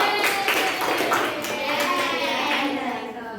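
Classroom applause for a student group: a steady round of hand claps from pupils, with children's and adults' voices talking over it throughout.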